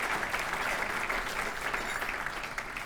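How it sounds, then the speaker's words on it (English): Steady, full applause from a room of attendees honoring elected officials at a community gathering, a continuous dense patter of many hands at fairly even loudness throughout. "Give all of the elected officials a big round of applause."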